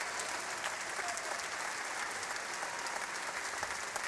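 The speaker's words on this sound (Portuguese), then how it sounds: "Salva de palmas" A crowd at a live concert at the Coliseu de Lisboa applauds continuously, a dense, even wash of clapping from a large hall heard faintly and steadily throughout.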